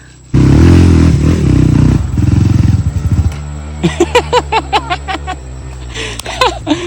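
A motorcycle engine strains and labours, loud and low-pitched for about three seconds, then gives way to a run of sharp clattering bursts and what may be laughter.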